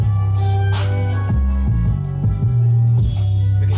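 Loud music played through a Phenyx Pro PTX-15 four-channel mixer with the bass turned up, heavy low-end notes pulsing steadily beneath brighter instrumental layers, continuous and close.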